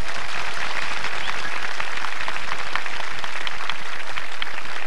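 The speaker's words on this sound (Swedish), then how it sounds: "hörde jag en applåd eller?" Audience applause at an outdoor sing-along concert at Skansen: a steady, dense wash of clapping from a large crowd, loud and continuous throughout with no talk over it.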